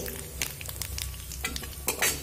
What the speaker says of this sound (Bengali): আর দিয়েছি শুকনো লঙ্কা আর গোটা জিরে। ফোড়নটা একটু ভাজা হতে দেব।